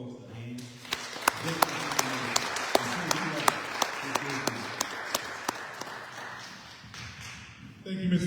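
Applause from a veterans' audience for a panel of presenters, steady clapping with a few sharp louder claps standing out, continuing for several seconds beneath murmuring voices before tapering off.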